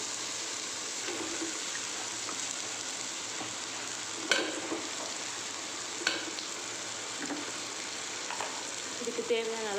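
Half a kilo of chicken frying in a pan with ginger, garlic and coriander leaves, giving a steady soft sizzle with occasional louder clinks and stirring scrapes, no voices.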